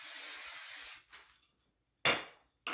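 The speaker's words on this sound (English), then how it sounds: "And a little spray on the top." Hairspray sprayed onto the top of styled hair: a close, hissing spray burst lasting about a second, followed by two shorter quick spritzes.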